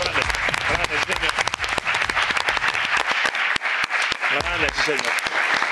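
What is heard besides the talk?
audience applause at a weigh-in event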